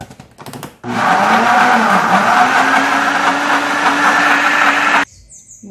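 A blender grinding peanuts into peanut butter whirs loudly and steadily for about four seconds, its motor pitch dipping briefly under load before it switches off abruptly.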